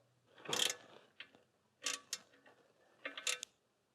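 Front cover bolts being tightened on a Mercedes 560SL R107, a few quick metallic ratchet clicks in short bursts separated by pauses, close and fairly quiet.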